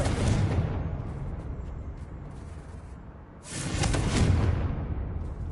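A Confringo fire-blast spell in Hogwarts Legacy erupts as a loud, roaring whoosh, fading to a lower rumble before a second burst swells up around the middle and lingers to the end.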